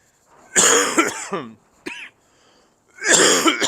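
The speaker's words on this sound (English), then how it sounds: "I'm still getting over this cough." Two harsh coughs, a short throat sound between them, loud and close, with brief silence in between.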